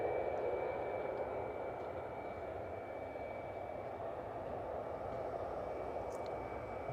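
A cargo aircraft lands at East Midlands Airport on a cold evening, its engines giving a steady, even roar that holds at a constant distance throughout, with a faint high tone running through it.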